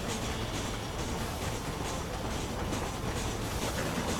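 Train passing in the video game Red Dead Redemption, a dense continuous rumble with rhythmic clatter of wheels on rails, close and steady for the whole stretch, with no talking over it.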